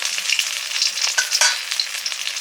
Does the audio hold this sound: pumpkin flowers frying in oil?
yes